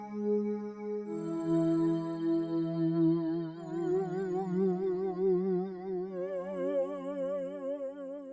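A Logic Pro Bellsphere pad holds soft sustained chords. Modulation gradually brings in a pitch wobble that grows steadily stronger and more obvious toward the end, with no talking.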